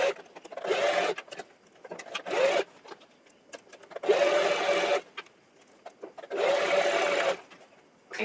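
A sewing machine runs straight stitches down the side seams of a thrifted top refashioned into a crop top, in three loud bursts of steady whirring separated by short pauses with faint handling noise.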